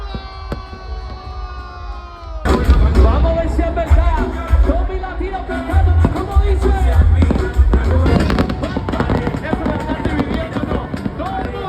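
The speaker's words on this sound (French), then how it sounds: "Et ils m'ont emmené à un endroit où on allait super bien voir le feu d'artifice de Miami" New Year's Eve fireworks over Miami, a steady crackle and popping of bursts amid a noisy crowd with voices and shouting, loud and continuous after a quieter opening.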